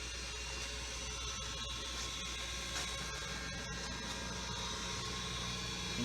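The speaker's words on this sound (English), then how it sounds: "Start the spindle up." A Chevalier FSG-618M 6 x 18 inch surface grinder with a 2 horsepower direct-drive spindle runs steadily, giving a constant mechanical hum with faint light ticking, quiet and even throughout.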